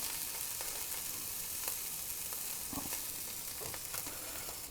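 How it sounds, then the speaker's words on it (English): Salmon fillet just flipped in a hot pan, with a steady, fairly loud broadband sizzle that runs throughout and carries faint scattered pops and spits. "Set my salmon right there and let it cook for about 4 minutes."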